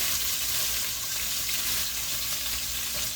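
Sausage fries in bacon and sausage drippings in a pan, giving a steady, loud, dense sizzle that stays close and constant throughout.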